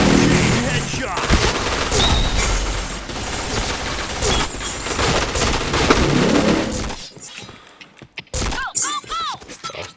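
Rapid gunfire from a video game shooter crackles in dense, loud bursts for several seconds, then cuts to sparse isolated shots and chirpy game effects near the end.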